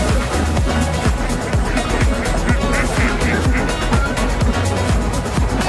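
Ducks quack on a duck farm, a dense flock calling continuously and loudly up close, with overlapping harsh quacks in a constant chorus and talking mixed in.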